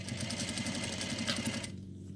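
A sewing machine stitches binding onto a fabric face mask, a steady close hum with rapid even needle pulses for about a second and a half before stopping abruptly.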